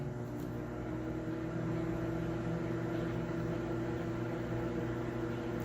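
A microwave oven runs while cooking one potato, giving a steady low hum and whir that holds evenly throughout, faint and alone with no voices.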